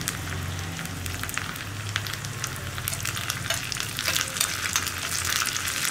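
Dried red chillies and curry leaves frying in hot oil in a Kerala curry pan, a steady close crackling sizzle with scattered pops and light stirring throughout.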